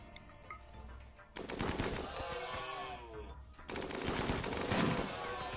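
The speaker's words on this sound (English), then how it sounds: "And the turrets are going for the one that went enraged on us." Turret gunfire in the video game RimWorld comes in two long bursts of rapid, loud automatic fire with a short lull between them, while a voice talks over parts of it.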